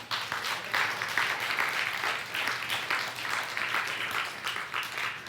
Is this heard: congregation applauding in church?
yes